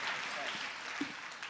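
An audience at a Hindi comedy poetry gathering applauds, a soft, fairly distant wash of clapping that holds steady throughout the short stretch.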